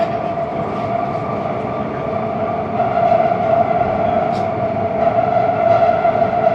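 Riding aboard a Riyadh Metro train: a loud, steady rumble and hum from inside the car, with a sustained mid-pitched whine and occasional brief tones, continuous throughout.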